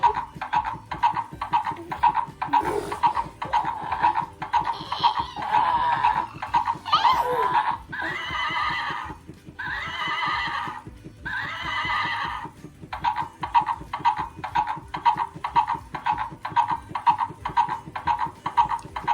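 A horse repeatedly neighs and whinnies on a spring day, the calls loud and close in several bursts over a steady rhythmic background of croaking or clopping.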